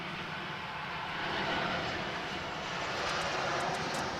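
A Qantas airliner at Adelaide Airport produces a steady, broad engine roar that holds at a constant level throughout.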